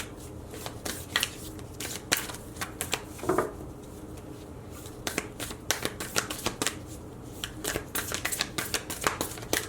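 Starseed oracle cards are shuffled by hand in rapid, crisp riffling bursts with short pauses between, close and clear with no talking.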